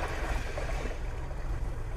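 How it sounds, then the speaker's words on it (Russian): Calm ocean waves play as a relaxation sound from the multimedia system of a Kia K5 GT-Line: a steady, soft wash of surf with no voices. "спокойные волны."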